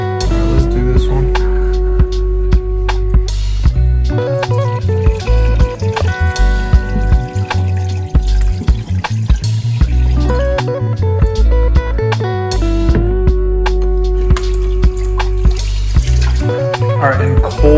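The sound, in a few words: water washing black caviar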